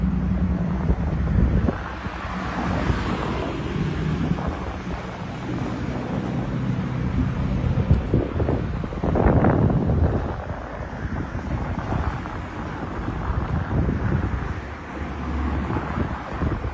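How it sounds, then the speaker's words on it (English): Steady wind buffeting a microphone beside a highway, with a continuous roar of passing traffic underneath, surging louder in places; no talking. "A little bit windy, but we're right next to the highway here."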